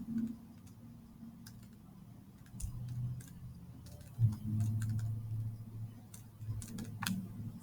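Someone punches numbers into a calculator, producing sparse, quiet button clicks scattered over a low background hum.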